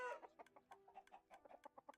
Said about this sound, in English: the chickens seem fine